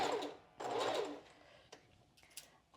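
A home sewing machine zigzag-stitches elastic onto a strapless bra in two short runs of whirring stitches, close and steady, with brief clicks and handling noises between them.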